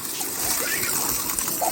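A motor pump pours water into a newly built home swimming pool with a steady, close rushing splash that continues unbroken throughout.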